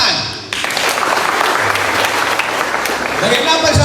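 Audience applause breaks out at an inauguration and farewell ceremony, a dense wash of many hands clapping that starts abruptly and holds steady and loud, with voices and room noise mixed in.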